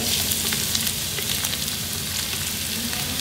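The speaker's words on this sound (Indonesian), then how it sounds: "Tumis bawang putih dan bawang bombay" Garlic and onion sauté in a few spoonfuls of oil, giving a steady, close sizzle with crackling high hiss that runs unbroken throughout, with no voices.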